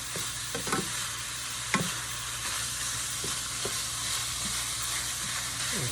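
Ground beef for sliders browns in a pan with a steady sizzle, broken by occasional scrapes and clacks as the meat is stirred and broken up. No voices are present.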